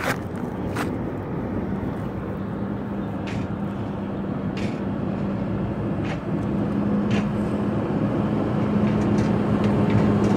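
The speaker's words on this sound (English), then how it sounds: "He's going to pull his truck up on the scale" A truck and trailer rolling up onto a weigh scale: a steady low engine rumble with a droning hum that stays close and fairly loud throughout, with a few faint clicks and rattles on top.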